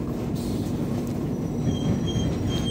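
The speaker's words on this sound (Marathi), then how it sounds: "आपल्याकडे ट्रेन येत आहे चेन्नई दिशेनं" A train rolls into Parbhani Junction station on the Chennai–Bangalore route, a loud, continuous rumble of wheels on rails with faint squeals and no voices.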